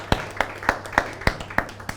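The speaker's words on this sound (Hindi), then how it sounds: "जोरदार तालियां हो" Audience at a Hindi poetry event claps for a poet, a handful of distinct, sharp claps in a steady rhythm, close and moderate, with no talk.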